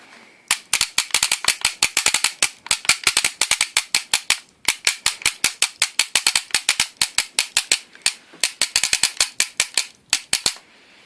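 A speedball paintball marker set to 3-round burst, 6-round burst and full auto, capable of 13 balls per second, fires rapid crisp bursts of shots with short pauses between volleys, close and loud.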